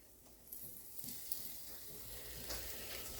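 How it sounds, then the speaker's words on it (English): Tofu tossed in a frying pan with a barbecue mixture gives a faint, soft sizzle with light stirring scrapes and small pops, quiet and close, with no talking. "dump my tofu from my air fryer into this frying pan"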